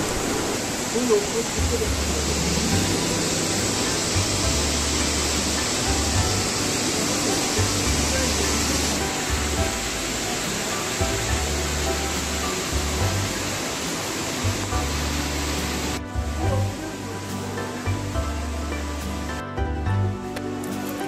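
A waterfall beside a temple in Sri Lanka roars continuously, a dense, steady rush of falling water that stays loud throughout.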